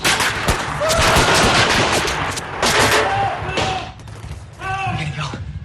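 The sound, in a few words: gunfire, shooting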